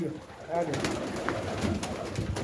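Pigeons coo in low, throaty murmurs against a busy background with a hint of voices nearby.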